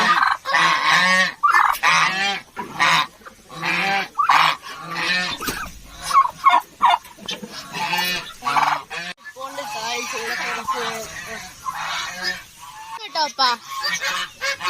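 Loud, busy poultry calls, honking and squawking birds crowded together close by, with a voice speaking briefly among them.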